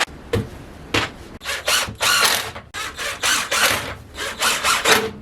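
A power drill driving screws to fix wheels onto a hot wire foam cutter base, loud bursts of whirring and ratcheting that start and stop in quick succession, close by with no talk.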